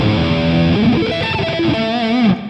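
Charvel Pro-Mod San Dimas electric guitar played through its neck pickup with heavy distortion, a sustained, loud run of notes with bending pitch, alone with no voices.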